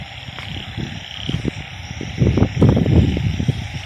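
Narrow-mouthed frogs call after a storm, a dense chorus of croaks layered together. It grows louder and busier toward the end, with faint wind and water noise underneath.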